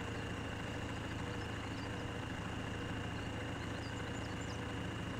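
Kirovets K700A tractor in Farming Simulator 17, a 216-horsepower engine, chugs at a low steady drone, continuous and even with no change in pitch, heard alone without talk.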